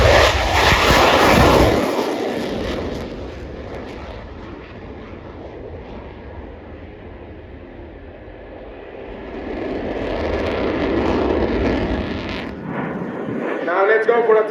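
A military jet at an air display launches with afterburner at full power. A loud, close roar swells, eases to a steady rumble, then builds again toward the end.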